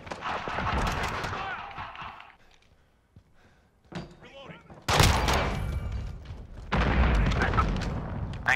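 A stun grenade goes off in the Modern Warfare video game: muffled thumps, then a sudden loud, broad blast, followed by sustained dense gunfire and combat noise with voices mixed in.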